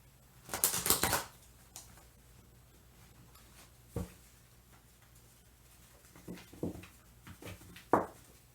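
Tarot cards being shuffled by hand, a burst of crisp riffling followed by several softer, separate taps and shuffles at close range in a quiet room.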